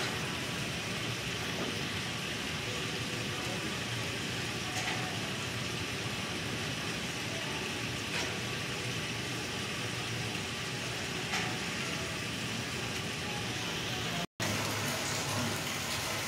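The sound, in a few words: water pump motor running after being switched on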